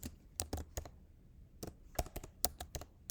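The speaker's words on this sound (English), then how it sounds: "So if I am typing here and I am typing" Keys clatter on a computer keyboard while text is entered in the vi editor: close, irregular bursts of sharp clicks, some in quick runs, with brief pauses between, and no voices.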